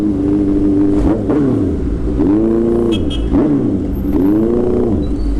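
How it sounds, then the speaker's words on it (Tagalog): A motorcycle with an Arrow full exhaust revs loudly and close, its pitch swooping up and falling back in repeated throttle blips over a rough, growling idle. "Ang ganda ng tunog ng arrow full exhaust."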